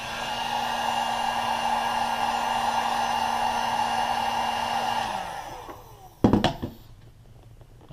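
A heat gun blows hot air onto sneaker material while a custom sole protector is fitted to a Jordan VI, a steady, loud whooshing hum that winds down after about five seconds, followed by a few sharp knocks and handling clatter.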